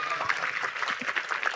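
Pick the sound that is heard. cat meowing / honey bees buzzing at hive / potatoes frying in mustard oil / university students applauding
university students applauding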